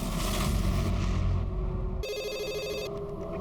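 An electronic telephone ring chirps in a bright repeating burst partway through, over a dense, droning background hum.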